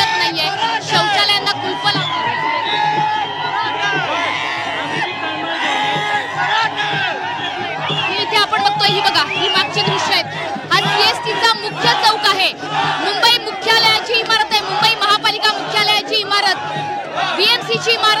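Loud crowd of Maratha protesters outside the BMC building in Mumbai, a steady roar of chatter, shouts and whoops running throughout with bursts of cheering.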